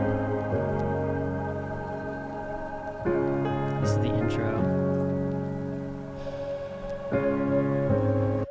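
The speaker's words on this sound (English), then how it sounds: "I'm gonna roll a clip real quick of one of the pianos that I recorded." A live recorded piano plays back, sounding wide and full. Soft sustained chords shift every few seconds, with a faint airy texture underneath and no speech.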